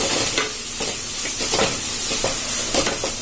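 Vegetable masala for a bread sandwich sizzles and fries in a pan, with steady hiss and repeated stirring scrapes throughout.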